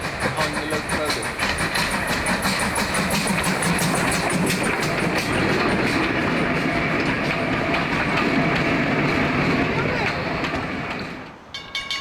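A train of vintage royal coaches, including an 1894-built Director's Saloon, rolls behind a locomotive on the South Devon Railway, a loud, sustained rumble and clatter of wheels on track that drops off abruptly near the end.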